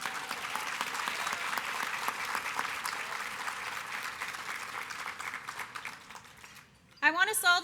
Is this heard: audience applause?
yes